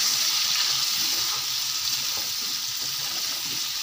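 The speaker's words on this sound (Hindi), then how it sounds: "ये सारे स्पाइसेस ऐड करके इनको मैं अच्छे से हला लूँगी" Spices with turmeric sizzle steadily in a hot pan for a cooking dish of potatoes and carrots, with soft scraping and stirring running through the constant bright frying hiss.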